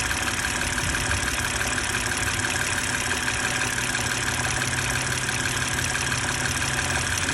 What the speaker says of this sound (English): We're going to go ahead and start the car up.